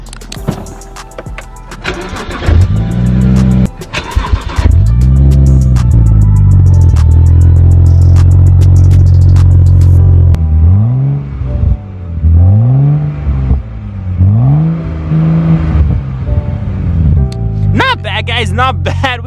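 A BMW 135i engine cranks and starts, then is revved repeatedly in rising and falling swells, loud and close, with some talk mixed in.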